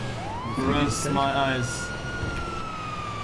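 A police siren wails inside a driving video game, a steady rising and sustained tone running under loud voices talking over it throughout.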